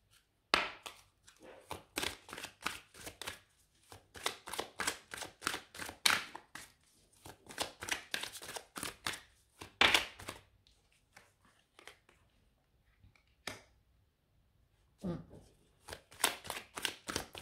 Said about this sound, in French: On va aller remettre des cartes là tout de suite pour essayer de comprendre.